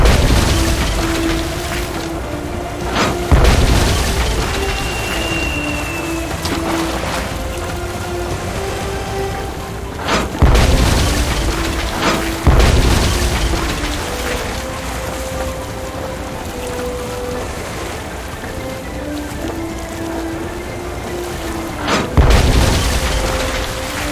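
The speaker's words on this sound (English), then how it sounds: "It is for me to shoot the cannon" Cannon shots boom from a ship in the Tales of Monkey Island adventure game, several heavy blasts spaced a few seconds apart over a continuous rain-like wash of noise.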